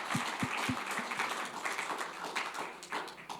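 Brief scattered audience applause after a rabbi's lecture, a few crisp handclaps up front giving way to a quiet, soft wash of clapping.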